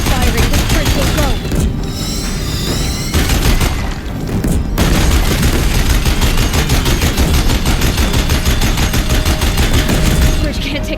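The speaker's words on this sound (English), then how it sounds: "The Deathbringers keep firing." Deathbringer machines fire their guns at a bridge during a battle in Horizon Zero Dawn Remastered, dense loud bursts of rapid gunfire with booming impacts, nearly continuous with brief gaps.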